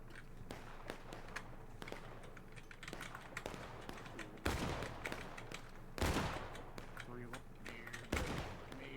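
Crackling volleys of musket fire roll through a Civil War video game battle, with sharp louder bursts standing out against a steady clatter of distant shots while a voice talks over the fighting.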